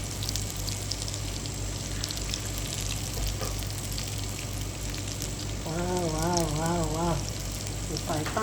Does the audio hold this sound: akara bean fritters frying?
yes